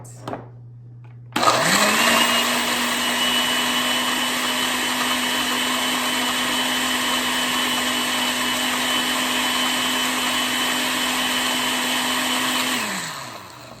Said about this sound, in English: And then I'm gonna put the beets in the blender.